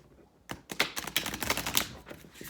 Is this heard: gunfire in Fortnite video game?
no